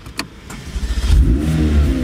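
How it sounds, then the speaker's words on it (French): A McLaren 720S Spider engine cranks and catches, then settles into a steady, throaty rumble close by, preceded by a couple of faint clicks. "Voilà, le moteur au démarrage."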